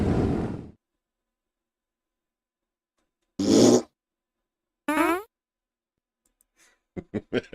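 Several short fart noises come in separate bursts with silence between them, closing in a quick rapid-fire series; a voice is heard at the start.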